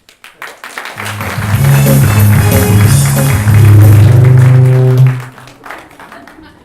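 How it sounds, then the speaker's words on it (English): An audience applauds on a stage comedy show as a grandmother guest is welcomed, clapping swelling into a loud sustained wash with tonal sounds running underneath, then dropping away after about four seconds. "Let's give her a big round of applause."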